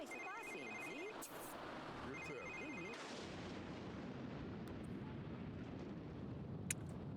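Telephone ringing in The Sims 3, two bursts of electronic trilling rings in the opening three seconds over steady game background sound, followed by continuing ambience.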